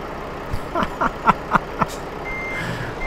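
Truck in Euro Truck Simulator 2 sounding its reversing alarm, a run of about six evenly spaced beeps over a low engine rumble.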